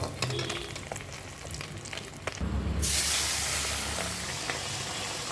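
Tangra fish frying in hot oil gives a steady sizzle that surges into a loud, bright hiss midway and then settles into continuous crackling.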